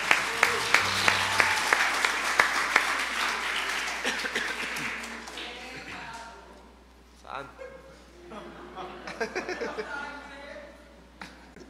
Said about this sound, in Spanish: Un aplauso a Jesús, aleluya